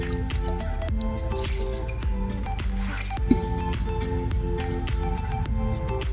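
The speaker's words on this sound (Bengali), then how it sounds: "জল দিয়ে দিচ্ছি।" Water being poured over washed rice in a bowl to soak it, giving a steady stream of close wet drips and squishing splashes over a faint tonal background with no talk.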